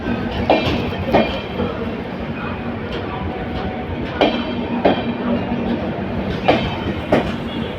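The North East Express rolls in, rumbling and close, with regular clickety-clack wheel beats spaced about a second apart over a steady rail drone, faint speech occasionally underneath.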